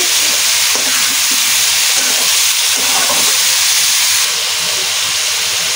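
Salted vegetables frying in a pan are stirred, giving a loud, dense, hissing sizzle close up with soft scraping of the stirring underneath.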